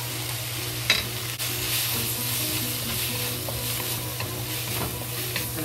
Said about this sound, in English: now add the eggs to it.